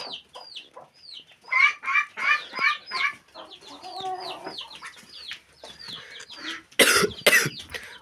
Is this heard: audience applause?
no